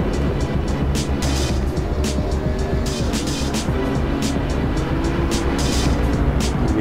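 Mercedes-Benz and other GT3 race cars lap Imola in Assetto Corsa with a continuous loud engine roar, the pitch rising and falling as they shift and corner close together.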